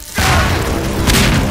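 A weapon blast in the video game Garry's Mod, a deep boom that bursts in loud after a short quiet moment and rumbles on for over a second.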